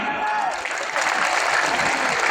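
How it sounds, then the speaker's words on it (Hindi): A large crowd at an outdoor program on the Shahid Maidan ground in Dhekiajuli bursts into loud, continuous applause, a thick roar of clapping that swells after a brief dip and stays strong to the end. "वाह जोरदार तालियां"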